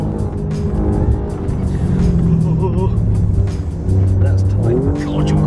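A 505 bhp hill climb car at the Goodwood Festival of Speed holds its engine on the rev limiter, a loud, steady, close engine drone with stuttering cuts and tire noise, while people talk over it.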